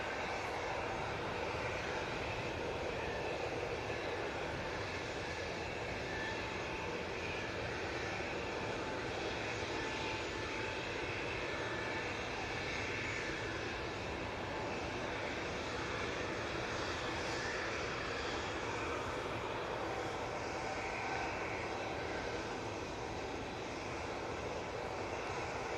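Broad, steady roar of an aircraft touching down at Manchester Airport, a continuous engine and air rush heard from some distance with no break.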